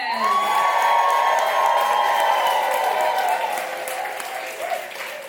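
Loud audience applause with cheers and whoops at a New York stand-up one-liner comedy competition, a dense roar of clapping that stays strong, then eases slightly toward the end.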